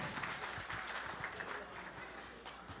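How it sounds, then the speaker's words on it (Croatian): A crowd applauds the hosts at a village games competition in Kutlovo. The clapping is dense and fairly faint, with what sounds like some talk mixed in. "Pa ajmo domaćini da čujemo taj aplauz."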